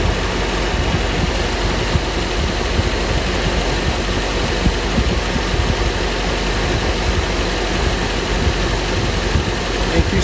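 A car engine runs steadily at raised revs during a battery charging test with an OBD2 battery tester, a continuous loud drone with no breaks.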